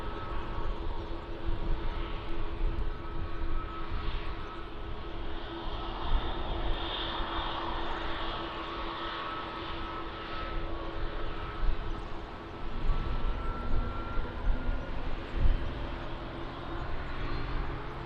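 An airplane on approach to runway 20 at Lisbon Airport gives a steady, broad engine roar at moderate distance, rumbling continuously for the whole stretch without a break.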